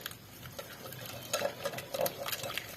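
Flour and a full cup of water are whisked by hand into a lump-free batter for a chicken strip coating, giving soft, quick scraping and tapping strokes that grow busier toward the end, fairly quiet and close.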